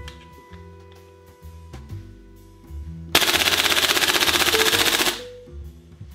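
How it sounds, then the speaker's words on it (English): A Tokyo Marui M4 MWS or VFC HK416A5 gas blowback airsoft rifle rattles off a loud, rapid fully automatic burst lasting about two seconds, preceded by softer clicks and handling noises, with a faint hiss as it ends. "The mark of a good GBBR is whether it can fire all of its BBs with a single pull of the trigger."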